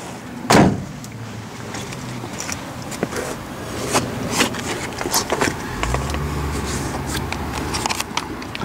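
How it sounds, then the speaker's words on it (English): A Corvair car window being rolled down: a sharp thud at the start, then light scraping and clicks, and a low steady hum toward the end, all close by. "Roll down the window."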